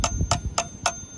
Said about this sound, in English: This is the bell that is going to make noise when this thing is fully working.